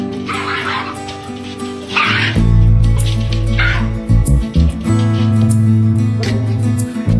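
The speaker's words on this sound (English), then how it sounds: "His bark is loud" A small dog barks in repeated loud, close yips over a steady background of music, indoors in a house where a cat is also present.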